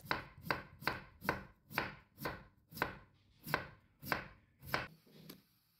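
A knife cuts potatoes into thin slices on a cutting board: about eleven loud, evenly spaced chops in a steady rhythm, close and clear with nothing else heard.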